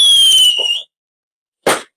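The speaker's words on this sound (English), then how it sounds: "Listen to the fireworks." Fireworks sound effect during a live show: a rising whistling squeal trails off, then after a short silence a single loud burst crackles near and close.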